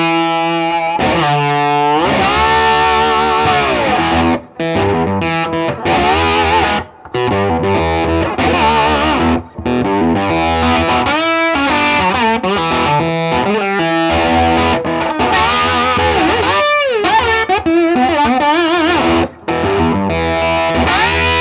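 Electric guitar played with a slide through a Vox AC30 amp, gliding pitch bends and driven, fat tones in loud phrases broken by a few short pauses, with no voices.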